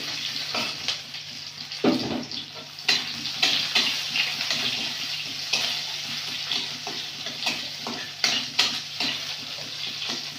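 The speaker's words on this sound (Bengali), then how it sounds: "পেঁয়াজটা ভাজা ভাজা করে দেবো।" Chopped onions with a five-spice tempering fry in hot oil in a kadai. A constant sizzle runs underneath frequent clattering stirs and scrapes against the pan.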